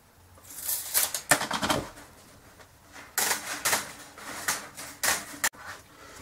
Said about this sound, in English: I'm going to cut off 15 inches of wire mesh